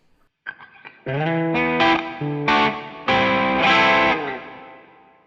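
Harley Benton RB600 Rickenbacker-style electric bass plays a short run of plucked notes on both pickups, then sustained chords that ring out with a wide, lingering reverb tail.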